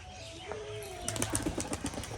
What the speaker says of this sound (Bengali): তো এবার কালো জ্যাক পায়রাটার বাজিটা দেখবো কেমন বাজি করে পায়রাগুলো